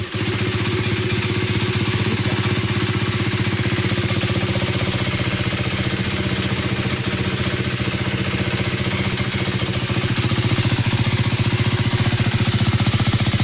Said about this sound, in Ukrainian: Вихлоп точно такий, як у 390 дюк,